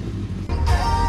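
Kawasaki motorcycle engine, a quiet low idle that jumps into a sharp rev, growing louder and brighter and holding high at close range.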